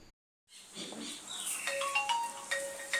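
A mobile phone ringtone for an incoming call starts after a short silence and plays a faint, bright repeating melody with steady tones.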